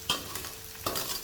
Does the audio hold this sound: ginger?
yes